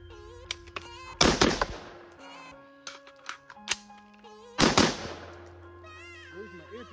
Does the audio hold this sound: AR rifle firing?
yes